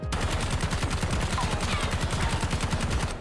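Model L rifle in Call of Duty: Warzone firing full-auto, a steady rapid string of evenly spaced, punchy close shots held without pause for a few seconds.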